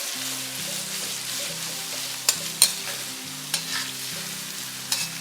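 Sliced onions fry in a pan and are stirred until crispy and brown. A steady sizzle carries a few sharp spatula scrapes and clicks, with soft background music underneath.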